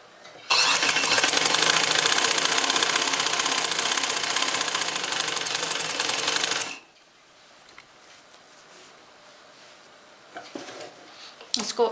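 A sewing machine stitches elastic onto a pair of XXL trousers in one loud, continuous rattling run of about six seconds. It stops abruptly, leaving quiet cloth handling and a few faint clicks.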